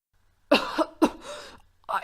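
A voices two harsh coughs, imitating a wounded character's coughing, followed by a third, shorter burst, close and fairly loud.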